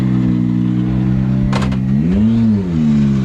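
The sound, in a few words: rally car pulling away from stage start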